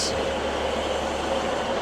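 A train stands at Ravenglass station in the Lake District, giving a steady low rumble with a brief hiss at the start, moderately loud and continuous with no talk.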